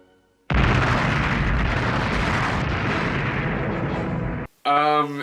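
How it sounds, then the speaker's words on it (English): An explosion in the animated Hercules film sets off a sudden, loud, sustained roaring blast that rumbles for about four seconds. It cuts off abruptly and is followed by a brief tonal, voice-like sound. "What the fuck was that explosion about?"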